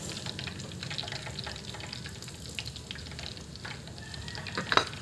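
Hot cooking oil dripping off freshly fried loro fish held over the pan, a continuous crackling sizzle with scattered sharp pops, close and steady for several seconds, no voices.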